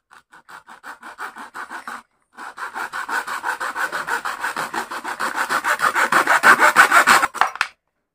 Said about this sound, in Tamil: அதனால் ஃப்ரேம் வச்சு கட் பண்ணிக்கிறோம்.